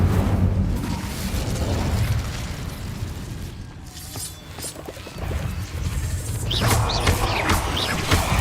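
A fire spell cast in the Hogwarts Legacy game gives a sustained roaring, crackling burst with an explosive swell, dense and loud throughout, with sharper flaring crackles near the end.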